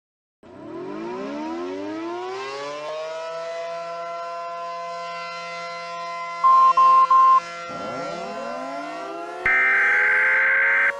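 A loud civil defense siren winds up and wails steadily during a simulated Emergency Alert System broadcast, dips and rises again, interrupted by short electronic beeps and a harsh buzzing tone.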